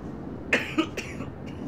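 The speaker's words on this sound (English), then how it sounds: "this cough will not fucking stop" A person coughs in a quick cluster of two or three harsh, close bursts, followed by a fainter throat sound over a quiet room background.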